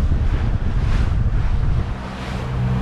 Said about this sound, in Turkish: Fena dalga var. Çok dalga var. Çok rüzgar var